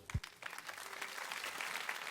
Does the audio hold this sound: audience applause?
yes